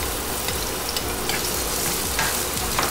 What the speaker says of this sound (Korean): 마늘 다 볶으면